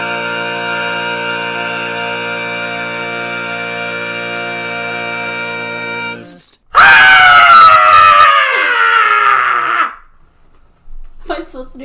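A person lets out a long, loud horror-style scream, rising and wavering for several seconds after a sustained tone, then trailing off into quiet laughter and a few scattered sounds.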